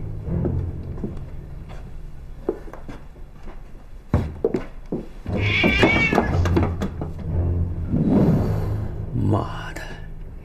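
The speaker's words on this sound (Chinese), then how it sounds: "原来是只野猫啊！" A stray cat meows in a tense night scene, a clear drawn-out cry rising mid-clip with a couple of shorter calls after, close and loud over ambient noise, footsteps and a thump.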